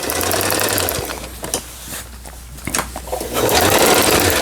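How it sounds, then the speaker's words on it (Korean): A Brother Star 2000 sewing machine stitches in steady mechanical bursts, its motor whirring close and loud, pausing briefly mid-clip before running again, with no talking. "이번에는 왼쪽 바느질, 2번이 정중앙의 바느질이네요."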